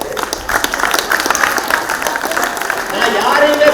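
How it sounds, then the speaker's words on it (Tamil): Audience at a Women's Day stage program claps in scattered, uneven bursts, mixed with crowd voices and some talk over the clapping. "கைதட்டு."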